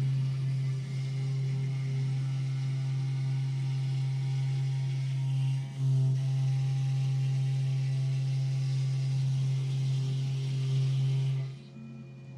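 A Makera Carvera Air desktop CNC milling machine runs a job with a steady, loud low hum and whine that holds constant for about eleven seconds, then drops away near the end.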